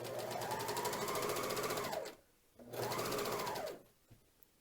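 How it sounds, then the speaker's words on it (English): A Janome Magnolia 7034D serger stitches fabric in two close bursts of rapid, even mechanical whirring, each about two seconds long, with a short pause between them and a faint click after. "I'm going to let it sew over a couple. And then I'm going to lift my presser foot and I'm going to serge"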